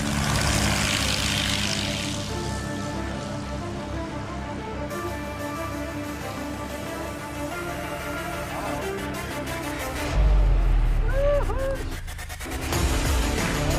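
A propeller airplane engine drones through a landing, a steady loud hum with a shifting pitch, joined near the end by a brief rising whine and a burst of heavier noise, with voices under it.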